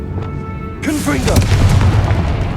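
A voice calls out the spell name, then the Confringo blasting spell from Hogwarts Legacy erupts into a loud, booming explosion that rumbles and crackles on for over a second.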